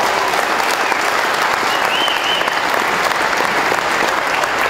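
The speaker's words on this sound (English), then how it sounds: "let's hear it for Ricky Dietrich and wish him luck in 2010" Steady applause from a large crowd at a WORCS off-road racing event, clapping continuously and loudly throughout.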